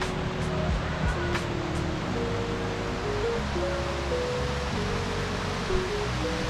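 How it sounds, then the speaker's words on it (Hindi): Rushing water from a waterfall on the Kheerganga trek in the mountains, a steady, loud broadband roar filling the background with faint hums and a few brief clicks. "कितना वाटरफॉल हो रहा है।"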